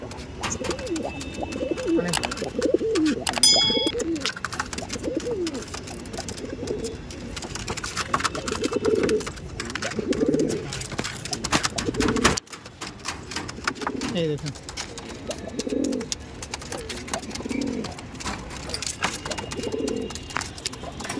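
Andhra pigeons coo repeatedly in soft, low, rhythmic bursts close by, with several calls spread throughout alongside light background rustling.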